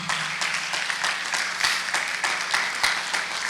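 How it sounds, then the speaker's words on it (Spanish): A church congregation claps for the Lord during a Friday worship service, a steady wash of many hands with rhythmic accents, moderately loud and continuous, with no talk over it. "Y usted le da palmas al Señor, hermano."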